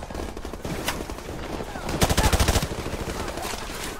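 Rapid automatic gunfire bursts from a newly switched weapon in Modern Warfare Remastered, crackling over busy combat noise, with the loudest rattling volley near the middle.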